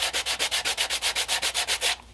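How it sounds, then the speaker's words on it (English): A resin casting is flat-sanded on 80 grit sandpaper fixed to a board, making about fourteen steady, evenly spaced scraping strokes, close and loud, with no voices. "We've got to flat sand the back, so I've got some 80 grit on the board."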